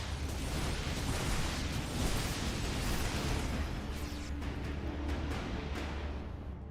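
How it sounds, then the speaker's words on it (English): Dense, continuous rumbling blasts and bursts of massed units clashing during a Protoss gateway push in a StarCraft II match, loud and sustained throughout with no let-up. "Now going for the gateway explosion."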